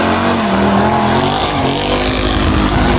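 A car drifts on a closed race track, its engine roaring loudly and steadily close by with shifting pitch throughout.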